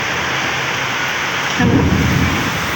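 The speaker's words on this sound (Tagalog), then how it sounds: "lakas ng ulan may kulog kidlat pa" Heavy rain roars steadily in the town centre of Calabanga, Camarines Sur, and a deep rumble of thunder swells in about halfway through and lingers under the downpour.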